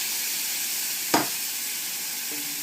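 Garlic and pan juices sizzling with a steady hiss, cream poured in to make a steak Diane sauce, a brief sharp clink near the middle, and no talk.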